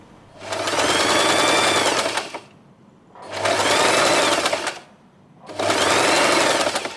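Sewing machine stitching 1 cm cotton lace onto satin ribbon for a hair bow: three steady, close whirring runs, each about two seconds long, with brief quiet pauses between them.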